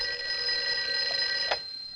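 A telephone bell in a film scene rings steadily and loudly throughout, a sustained bright metallic trill with a brief sharper accent near the end.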